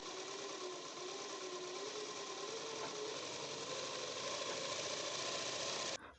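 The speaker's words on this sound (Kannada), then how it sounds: "ಅದೇ ರೀತಿ ನೀಟಾಗಿ ಸ್ಟಿಚ್ ಮಾಡ್ಕೊಳ್ಳಿ" A sewing machine stitching thread piping onto a blouse runs in a steady mechanical whir with a faint rhythmic hum, continuous and fairly quiet, stopping abruptly at the end.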